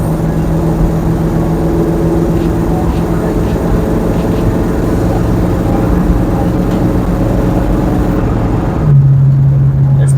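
A 1973 Ford Mustang engine drones steadily while driving on the road at about 35 to 40 mph, a loud continuous low hum that holds level, with a pitch step near the end.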